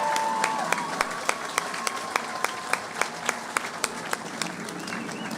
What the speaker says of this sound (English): let's have a huge round of applause for our parents, grandparents, friends, everybody who got you to this point here